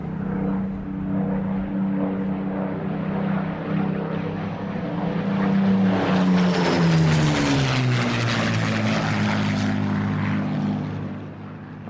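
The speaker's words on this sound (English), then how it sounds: "came the reassuring sound of an aircraft that was more than a match for the German and Italian fighters" A Spitfire fighter aircraft flies overhead, its propeller engine drone rising from a distant hum to a loud close roar with a falling pitch sweep as it passes, then fading slightly.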